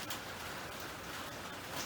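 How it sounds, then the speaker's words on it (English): Heavy rain pouring onto the tin roof of a workshop, a steady dense hiss and patter that continues evenly throughout, fairly faint, with no talking. "It is absolutely pouring rain right now, and the shop that I'm in has a tin roof"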